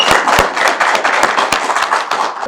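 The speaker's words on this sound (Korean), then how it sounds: "여러분 뜨거운 박수로 격려해 주시면 좋겠습니다" Audience applause at a regional candidates' joint debate in Gwangju, a steady burst of many hands clapping with sharp individual claps standing out, fairly close and filling the whole stretch.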